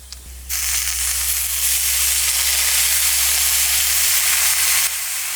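Chopped fenugreek leaves hit a pan of onions and turmeric for an egg curry and set off a sudden, loud sizzle. The steady frying hiss holds for several seconds, then drops slightly near the end.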